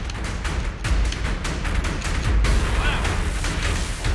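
Police open heavy, saturating gunfire during an assault on drug traffickers, with rapid overlapping shots and booms in dense bursts, loud and close, while the fire continues steadily.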